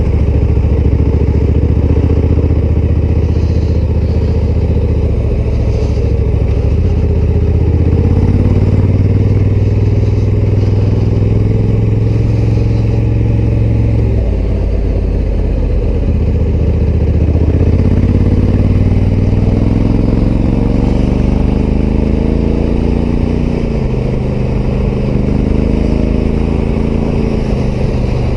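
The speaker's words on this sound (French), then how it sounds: "C'est une moto" A Honda Africa Twin Adventure Sports motorcycle being ridden during its break-in period, the engine droning steadily and loudly with rising and falling revs as it shifts through gears, heavy wind rumble underneath, no talking.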